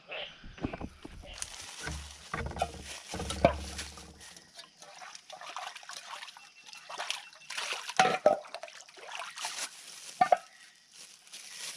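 Close water sounds, gentle sloshing and trickling as a cooking pot is dipped into a stream and lifted, with light clinks and scraping, under quiet outdoor forest ambience.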